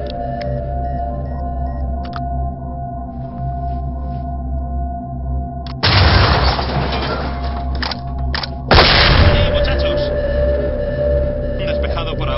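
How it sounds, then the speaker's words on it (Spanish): A breaching charge goes off in the tactical shooter SWAT 4: two sudden, loud, crackling blasts a few seconds apart burst over the steady hum and beeps of the game's background sound. "Preparaos para la explosión."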